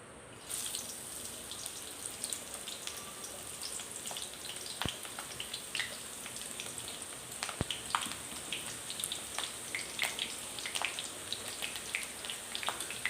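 Green chilies frying in hot mustard oil in a wok, a faint, even crackling sizzle with scattered small pops and a couple of sharp clicks, heard up close.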